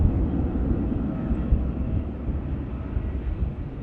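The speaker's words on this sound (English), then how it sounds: "Off she goes, the Aer Lingus Airbus A330 300 series with them" An Aer Lingus Airbus A330-300 with CF6 engines departs from Manchester Airport, a loud, dense low roar of jet engines that fills the scene steadily throughout.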